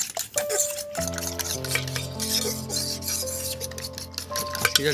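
A fork whisks and scrapes a lentil mixture in a bowl for a masoor dal recipe, a steady rasping stir with light metallic clinks, close and alone over a faint hum.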